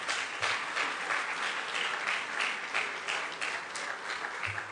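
Sustained applause from a debate audience at Liberia's 2017 presidential debate, steady broadband clapping from a large crowd filling the whole stretch without talk.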